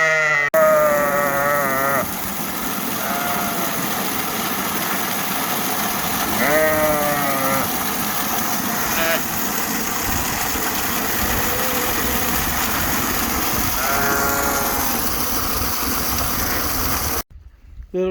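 Sheep bleat repeatedly on a farm during feeding time, several loud wavering calls rising over a steady idling engine hum that runs underneath throughout.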